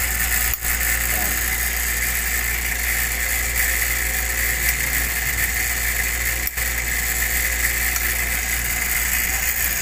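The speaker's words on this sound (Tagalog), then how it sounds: "Ang tahimik ng motor nito." A new bench grinder's electric motor runs steadily and quietly at close range, giving a constant hum with a faint rattle and no change in pitch.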